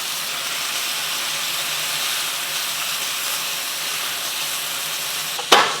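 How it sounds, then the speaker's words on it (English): Pork and bean sprouts frying in a cast iron pan, a steady loud sizzle throughout, ending with a brief sharp clank near the end. "And you just want to cook this for about 30 seconds, maybe a minute, just until the bean sprouts are wilted."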